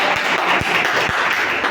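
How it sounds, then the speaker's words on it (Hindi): Students in a classroom clap together for a classmate during a math lesson, a dense, steady applause with a few sharper claps, fairly close and without speech. "बहुत अच्छा, ताली बजा दीजिए।"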